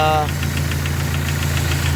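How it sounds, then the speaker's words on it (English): A Dodge Neon stock car engine idles with a rapid, even ticking from the valve train riding over its low hum, close and steady. "Seems to have a bit of valve train noise too."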